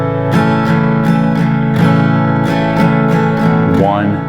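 Acoustic guitar with a capo strummed in a down-down-up 3/4 waltz pattern, steady ringing chord strokes repeating evenly and close, no voices.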